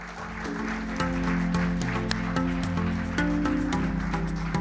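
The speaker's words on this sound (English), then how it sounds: "A round of applause," An audience claps at a program launch event, steady sustained applause that stays loud throughout, with a musical tone running underneath.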